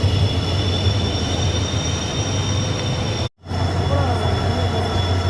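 A passenger train rolls into platform one at Manamadurai Junction with a steady, close rumble of wheels and carriages and faint high metallic squeal, the noise cutting out briefly partway through before resuming.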